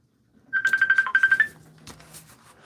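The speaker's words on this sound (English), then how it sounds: "My phone's ringing" A phone rings indoors during a live RC-building stream, giving a clear, bright burst of rapid repeated electronic tones for about a second, followed by faint rustling.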